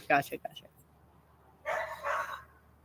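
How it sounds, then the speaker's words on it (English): Dogs fighting indoors, with a burst of sharp barks at the start and a louder stretch of snarling and yelping later. A voice can be heard, and the dogs sound close. "The dogs are fighting."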